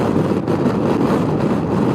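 Steady, heavy wind roars and buffets against the microphone of a rider on a moving motorcycle, with a low rumble underneath, continuous and loud, with no talking.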